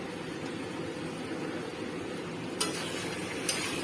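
Chicken frying in a pan, a steady hiss and sizzle throughout with two sharp clinks of utensil on pan near the end.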